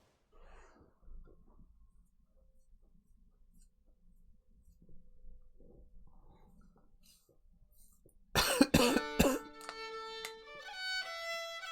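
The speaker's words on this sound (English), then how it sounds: "I held that cough as long as I could, I'm sorry." While someone plays Tears of the Kingdom, a sudden close burst of a few coughs breaks a quiet stretch of faint breathing and small noises, then gives way to ringing game music tones.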